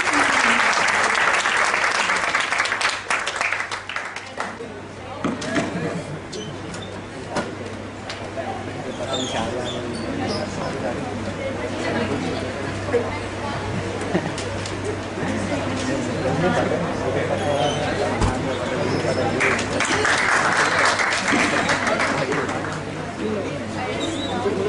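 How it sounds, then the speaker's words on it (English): Audience applause fills a campus event hall, loud and sustained, swelling at the start and again near the end, with crowd chatter running underneath. "Please give them a big round of applause."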